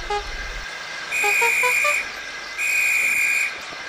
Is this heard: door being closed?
no